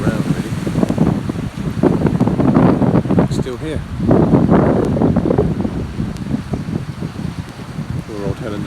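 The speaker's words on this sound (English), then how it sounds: "A bit of a rough night, fairly windy" Strong wind buffets and rumbles against the microphone in heavy, steady gusts on a blustery night on the West Highland Way in Scotland, while someone talks over it.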